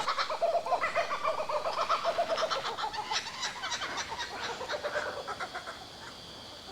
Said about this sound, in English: That was a kookaburra.